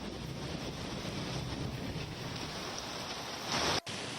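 Heavy rain falling across Delhi-NCR on a cold morning, a dense, steady roar with no pauses that swells briefly near the end before cutting out abruptly.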